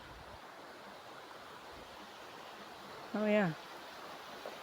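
Water pours steadily over an outdoor weir in a steady broadband rush throughout, with a voice briefly speaking near the end.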